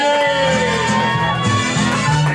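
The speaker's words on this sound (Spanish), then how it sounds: "Fuerte el aplauso para el niño de la calle." A crowd at a child's birthday party cheers and shouts loudly, with whoops and children's voices piling up over music, all close and continuous.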